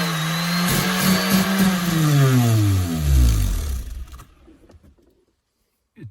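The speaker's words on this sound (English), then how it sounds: "I'll be using this sanding discs, 100 grit." A power sander with a 100-grit disc sands a fiberglass boat hull, motor pitch rising and falling under gritty grinding, then winds down and stops, leaving near silence.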